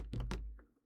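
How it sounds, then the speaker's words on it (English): A few quick taps on a computer keyboard, close to the mic and fairly quiet, with two clustered keystrokes followed by a softer one as the sound fades. "keyboard sounds and stuff"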